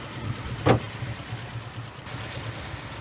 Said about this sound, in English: Yeah, that dropped the idle way down.